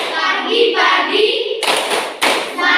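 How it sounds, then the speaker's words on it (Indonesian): A class of children in an Indonesian Catholic religious education lesson performs a rhythmic spirit clap: chanted voices first, then two loud, close bursts of clapping in a steady beat. "Ibu mengajak kalian untuk melakukan tepuk semangat happy."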